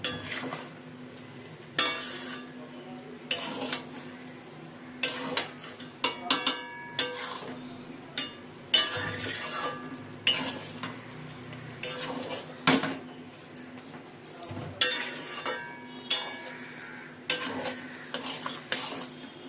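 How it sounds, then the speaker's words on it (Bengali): Salt and sugar being stirred into Gobindobhog rice basanti pulao in a pot, with repeated scraping clinks of a spoon against the metal rim and a low steady hum underneath, close and moderately loud with no talking. "এখন নুন চিনিটা মিশিয়ে নেব"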